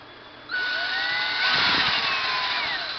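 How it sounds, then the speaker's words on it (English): A power drill bores a hole in the hull of a radio-controlled gas boat, a steady whining buzz starting abruptly after half a second and holding close and loud, swelling slightly midway. "drill your hole"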